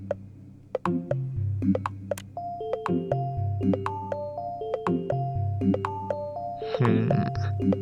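Bell and percussion tones from music software play in a steady pattern of bright, struck pitches with sustained tonal layers and regular ticking hits, ending in a denser, noisier burst; no voices.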